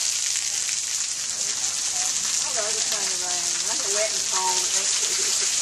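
Steady outdoor rain hisses as a broad, even wash of noise throughout, with voices talking faintly in the middle of it, during a family vacation near a waterfall.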